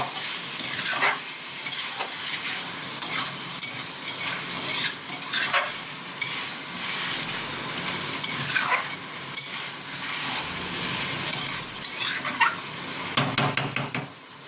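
Prawns with green mango are stir-fried in a pan, a steady close sizzle broken by repeated scraping and clinking of a spatula against the metal, growing busier toward the end, with no talking.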